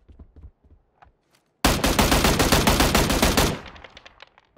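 A long, loud burst of rapid automatic gunfire in PUBG lasts about two seconds, comes after a few faint clicks, and tails off into a fading echo.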